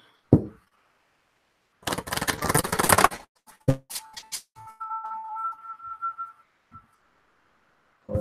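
Oracle cards riffled and shuffled in a brief rapid burst, followed by soft taps and a faint tonal hum in a quiet room.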